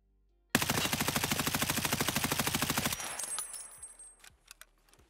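Suppressed M4 rifle in a video game firing one sustained full-auto burst of about 2.5 seconds, rapid even cracks at a steady rhythm, followed by fading tail and a few scattered clinks of falling casings.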